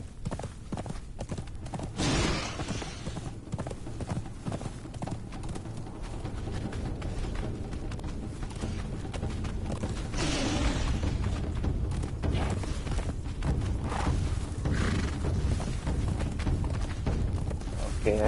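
Repeated clip-clop of horse hooves from a mount ridden in the Conan Exiles video game, steady and continuous over a busy game soundscape with occasional booms, someone talking over it.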